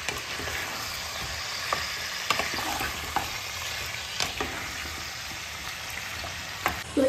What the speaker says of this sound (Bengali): টমেটোটাও ভাজবে, ভাজা হবে, নরম হবে